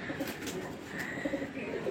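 Damascene pigeons cooing close by in a loft, giving soft, low, repeated coos over a steady background murmur, with no talking.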